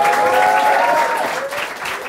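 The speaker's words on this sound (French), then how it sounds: "on peut l'applaudir" An audience claps loudly and steadily for a volunteer called up on stage, a thick continuous burst of applause with some faint voices and a tonal whistle-like sound blended in.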